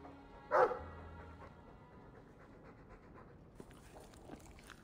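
A dog in a fantasy role-playing video game gives a brief, fairly loud bark or yip near the start, then quiet panting and soft ambient game sound follow.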